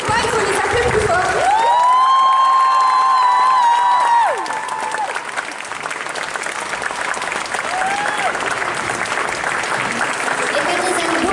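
A large crowd claps and cheers for cosplay competitors on stage at a costume contest, with loud sustained shouts and whoops riding over dense continuous applause that carries on steadily throughout.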